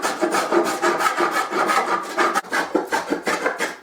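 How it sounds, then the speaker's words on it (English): Hand plane shaving wood while carving the outer profile of an archtop guitar plate, a steady series of close, loud rasping strokes repeating in a quick rhythm with no talk. "Using the planes to generate this external"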